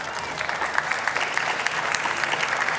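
Outdoor crowd at an Alzheimer's walk claps in a steady round of applause, dense and fairly close, without talk.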